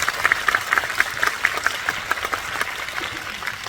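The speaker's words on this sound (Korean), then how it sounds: "큰 박수 부탁드립니다." Audience applause at a live talk event in a Yeongdeungpo CGV cinema: many hands clapping in a dense, even patter that holds steady throughout, with no voices.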